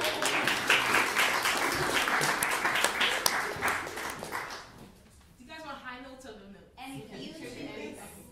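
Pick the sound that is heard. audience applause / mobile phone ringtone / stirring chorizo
audience applause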